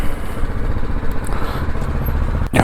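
A touring motorcycle being parked gives off a steady, close engine rumble with mechanical clatter, ending with a brief sharp clunk just before it stops.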